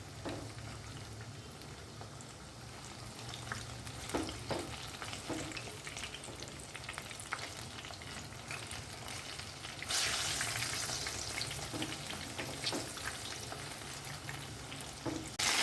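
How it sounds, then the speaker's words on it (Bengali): Batter-coated bananas fry in hot oil with a constant close sizzle, punctuated by soft scrapes and clicks as they are gently stirred; a brief louder burst of spitting comes midway, with no voices. "এইভাবে প্রত্যেকটা কলাই ব্যাটারে চুবাবে আর কোটিংয়ে এই তেলের মধ্যে ছেড়ে দেবে"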